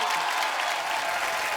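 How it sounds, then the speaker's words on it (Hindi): Steady, dense applause from a studio audience at a comedy talk show, a continuous close wash of clapping throughout. "जोरदार तालियां रितेश भाई के एक बार"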